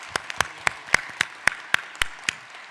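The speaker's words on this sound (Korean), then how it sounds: "박수 한번" A few members of a church congregation at a New Year's Eve service clap, about a dozen distinct, evenly spaced claps ringing out alone in a quiet room, moderately near.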